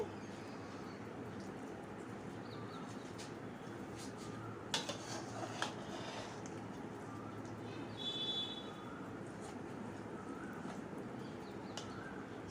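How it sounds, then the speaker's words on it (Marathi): Mango pickle being mixed from the bottom up with a spoon in a bowl: soft, steady scraping with a few light metallic clinks at irregular moments, fairly quiet and close. "छान असं आपण खालून वरून छान मिक्स करून घेऊया"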